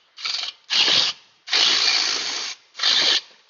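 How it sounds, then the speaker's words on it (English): A battery ratchet loosens hub bearing bolts on a Subaru in four loud, close whirring bursts, short, short, long, short, separated by brief pauses. "if you're fortunate enough to have a battery ratchet, take it out so far"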